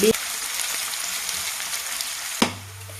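Ginger frying in ghee in a pan for ghee rice, giving a steady close sizzle that holds for a couple of seconds before a sharp clink and a sudden drop to quiet.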